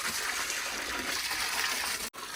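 Water pumped in by a motor gushes steadily into a container as it fills, a constant loud rushing that breaks off for an instant near the end before resuming.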